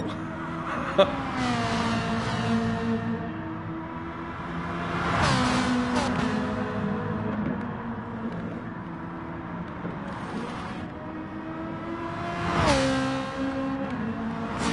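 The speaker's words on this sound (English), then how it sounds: "Scream of the Fesa V8s." High-pitched Fesa V8 racing engines scream and rev through gear changes in Gran Turismo Sport at St. Croix, with cars whooshing past now and then, loud and continuous.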